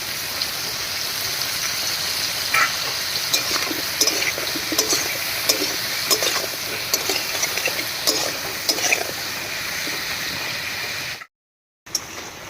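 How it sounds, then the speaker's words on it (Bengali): Steady crackling sizzle of teasel gourd frying in a pan with salt and turmeric, with occasional scraping stirs, continuous and close, cutting out briefly near the end. "এই অবস্থায় কারকলগুলোকে একটু ভাজা ভাজা মতো করে নেব"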